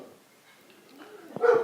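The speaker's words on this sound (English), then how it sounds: "the dogs are barking" Dogs bark somewhere outdoors, a couple of short, sharp barks arriving near the end after a quiet start, fairly faint and set back from the listener.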